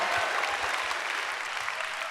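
A studio audience claps and cheers after a joke, a dense burst of applause that stays loud and fades slightly over two seconds.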